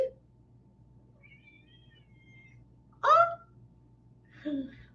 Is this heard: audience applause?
no